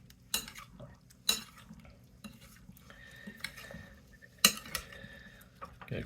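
A spoon stirs food in a bowl for chicken fajitas, guacamole and pico de gallo, with sharp clinks against the dish at intervals and soft scraping between them, close up and with no talk.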